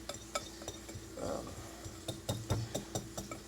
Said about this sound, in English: Using the whisk works really good